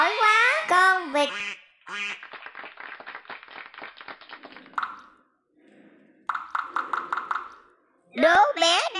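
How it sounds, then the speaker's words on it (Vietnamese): A duck quacks in two rapid, rhythmic bursts of many short nasal quacks, clear and close, between bright voices that speak at the start and end. "Giỏi quá, con vịt."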